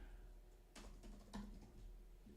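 Quiet typing on a computer keyboard, a few short bursts of key clicks against a low background hum, with no voices.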